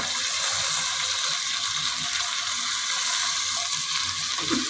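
Lentils (dal) frying in a hot pan give off a steady, loud, hissing sizzle that holds evenly from start to finish, close by, with no voices.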